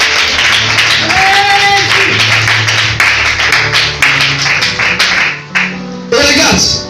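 A church congregation claps loudly and continuously in praise, steady dense applause close up with a low droning tone underneath, breaking off briefly near the end before resuming.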